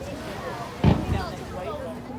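A single fireworks shell bursts high overhead at a seaside summer display in Weymouth, a sharp boom with a crackling tail, heard amid crowd chatter and talk nearby.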